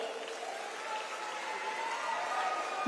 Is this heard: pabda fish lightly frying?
no